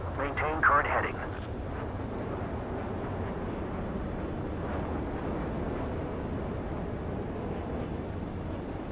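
Jet aircraft in Ace Combat 7 on final approach to a runway for landing, a steady loud engine roar and wind rush sustained throughout, with a brief sharper swell near the start.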